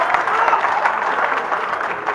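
Crowd applause at a Haryanvi comedy show, a steady dense wash of clapping at moderate loudness with a murmur of voices underneath, holding evenly throughout.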